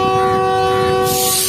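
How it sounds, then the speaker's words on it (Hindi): The Awam Express pulls out of a station near Karachi in extreme heat. A loud, steady horn tone sounds, then a broad rushing rumble of the moving train takes over, close by with no talking. "झंडी भी लहराई जा चुकी है और ट्रेन भी निकलना शुरू।"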